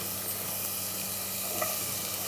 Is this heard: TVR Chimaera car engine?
no